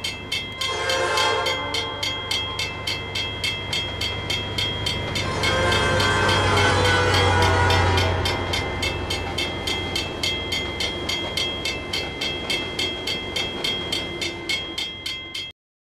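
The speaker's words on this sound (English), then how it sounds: "SD40-2-3387 rolls through Kiwana with center beam empties" An SD40-2 diesel locomotive hauling empty center beam freight cars rolls past close by, engine rumbling low as a steady, rhythmic clatter of cars runs throughout, with a horn-like tone early on.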